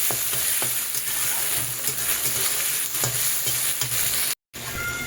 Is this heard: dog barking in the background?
no